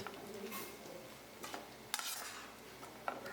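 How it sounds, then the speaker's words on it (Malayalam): Sliced onions being stirred in a pan for beef curry, heard as quiet soft scraping strokes with a faint sizzle and a few sharper utensil clicks, faint and close, with no voices. "അതിനുശേഷം അരിഞ്ഞു വെച്ച സവാള ഇട്ട് കൊടുക്കുക. അത് നന്നായി ഇളകി കൊടുക്കുക."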